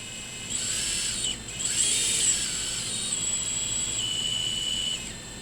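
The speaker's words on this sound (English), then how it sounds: "Okay, let's run some motors." Small drone motors spin at idle on a bench test, a thin high-pitched whine that starts after a moment, holds steady with slight pitch shifts and a brief dip, then cuts off near the end. Close and fairly loud, no talking.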